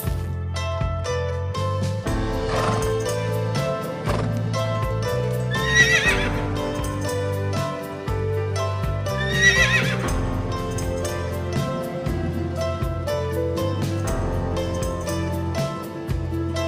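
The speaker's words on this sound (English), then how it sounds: "H O R S E, horse. Horse." A horse neighs and whinnies twice over steady background music, with faint clip-clop hoofbeats; no one speaks.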